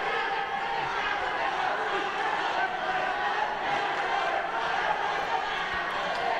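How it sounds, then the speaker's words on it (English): Dense crowd noise roars at a boxing match, a 52 kg flyweight quarterfinal between the Philippines and Indonesia at the 2019 SEA Games, a steady loud wash of cheering and shouting throughout with no single voice standing out. "The electrifying noise of the crowd"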